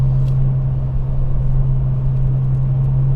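A 1997 Porsche 993 Turbo engine pulls smoothly at 5,700 RPM, a steady even drone with a strong low hum and no pops or crackles, sustained and close from inside the car.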